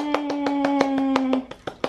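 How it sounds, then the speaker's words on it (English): A mother claps her hands for her toddler at home, about ten sharp, evenly spaced claps in a steady rhythm, close and loud, with a sustained vocal tone running under the first part. "Mama clap hands."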